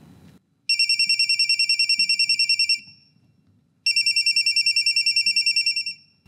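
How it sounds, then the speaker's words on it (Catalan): A mobile phone rings in a theatre during a long audience ovation: two bursts of rapid electronic trilling ring tones, loud and close, separated by a short pause over a faint background. "durant la qual va sonar el mòbil"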